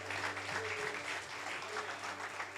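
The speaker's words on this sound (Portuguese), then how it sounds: "Tú puedes aplaudir al Señor" A church congregation claps for the Lord during a Spanish-language sermon, a brief burst of dense, even applause over low organ or keyboard tones.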